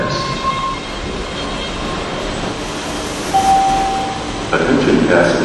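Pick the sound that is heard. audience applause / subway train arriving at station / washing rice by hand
subway train arriving at station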